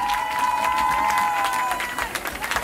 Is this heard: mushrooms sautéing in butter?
no